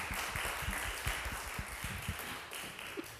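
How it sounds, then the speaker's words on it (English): A church congregation claps for two singers after a Sunday worship performance, a quick scattered patter of hand claps at moderate distance lasting a few seconds with no talking over it. "let's give another round of applause to Jackie and Zenora"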